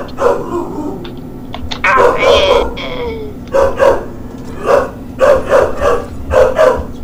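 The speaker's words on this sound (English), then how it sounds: "Wish my dog would shut up, man." A dog barks repeatedly nearby in a series of sharp, loud barks arriving in an uneven rhythm, with some whining yips in between, all close and clear.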